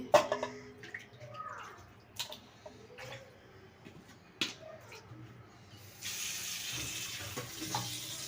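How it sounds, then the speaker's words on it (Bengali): Fresh beef tripe being rinsed under running water from a tap, with a steady splashing stream that grows fuller near the end, broken by scattered clinks and handling knocks. "ভালো করে ধুয়ে নিতেছি।"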